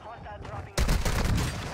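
Rapid gunfire erupts in a shooting video game, a dense loud burst of automatic shots following a brief quieter moment, with voices faintly present.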